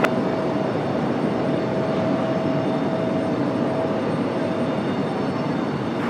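Southwest jet airliner taking off from a Raleigh-Durham airport runway, a broad, steady engine roar that stays loud and constant throughout, with no voices.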